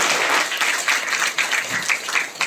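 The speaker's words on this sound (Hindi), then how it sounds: "एक बार जोरदार ताली डॉक्टर गौरव के लिए।" Audience applause for Doctor Gaurav at a DXN gathering: a brief, fairly close burst of many hands clapping, rising and dipping unevenly over a couple of seconds.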